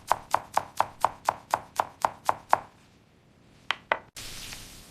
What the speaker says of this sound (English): I mince the garlic.